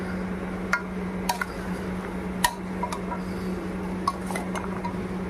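Mutton curry ingredients stirred with pink salt in a pan, a spoon giving scattered light clinks and scrapes against the metal over a steady low hum, with no talk.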